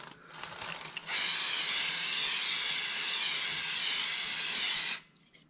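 A spray bottle mists an oil coating into an air fryer basket in one steady, loud hiss lasting about four seconds, close up, with no talking.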